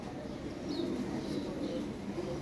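Lahori Sirazi pigeons, a breeding pair, coo softly in low, throaty murmurs that blend into the faint background for a couple of seconds.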